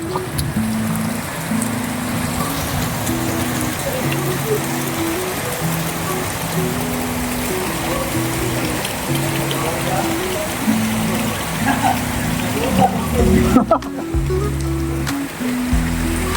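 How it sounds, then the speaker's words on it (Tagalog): Heavy rain pours down in a constant dense hiss, with voices talking over the downpour. "Grabe ang lakas ng ulan."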